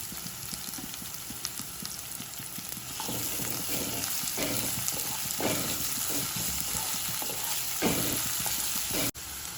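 Chopped ginger, garlic and green chilli frying in oil, a steady dense sizzle that grows louder after a few seconds, with intermittent stirring scrapes and no talking.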